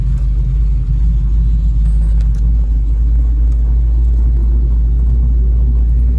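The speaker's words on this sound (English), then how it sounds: "Start from the seat. Might need to idle it down some." A Dodge Ramcharger's engine runs at idle, a loud, close, deep rumble that holds steady throughout with little change in pitch and no talking.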